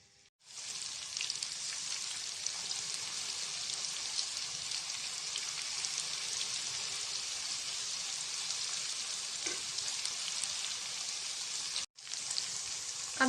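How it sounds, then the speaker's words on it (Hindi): Onions sizzle steadily in a hot pan for a Hindi-style chicken jalfrezi, a loud dense frying hiss holding almost the whole time, with a brief break near the end before it resumes. "प्याज ऐड कर लेते हैं इसमें, और इसको फ्राई हल्का सा बिल्कुल पिंक शेड में लेके आते"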